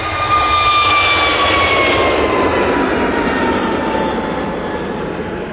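An Airbus A321neo airliner at Manchester Airport drives by with a loud, steady jet roar and a whining engine tone that slowly drops in pitch and fades as it moves off.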